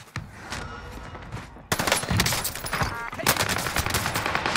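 Rapid gunfire in Call of Duty on Rebirth Island: a single crack, then a sudden dense burst of loud, close automatic shots that keeps going, with a few separate bangs near the end.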